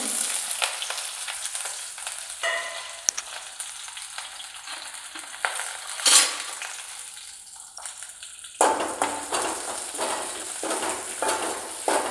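A large onion sizzles and crackles steadily in hot oil while cooking mor kuzhambu, a dense frying hiss with occasional stirring clatter, getting louder and busier toward the end.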